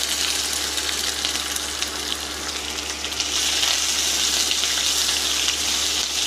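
Onions frying in oil with dried red chilies and curry leaves for a spinach buttermilk curry, giving a steady, loud broadband sizzle with a watery hiss that holds evenly throughout, no voices.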